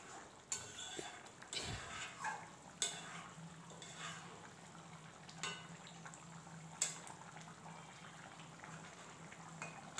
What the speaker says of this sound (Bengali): একটু খুন্তি দিয়ে নাড়াচাড়া করে কিছুক্ষণ ফুটিয়ে আর কিছুক্ষণ ফুটিয়ে নেব